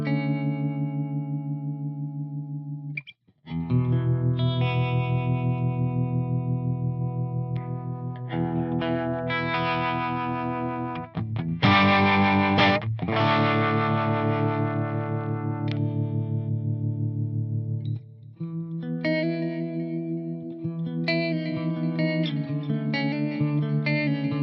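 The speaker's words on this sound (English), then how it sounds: "I have been toying around with kind of a faster harmonic vibrato." Sustained electric guitar chords and melodic lines played through effects with a fast harmonic vibrato that gives a rapid wavering shimmer, plus some distortion and chorus. It plays continuously and close, with no talk.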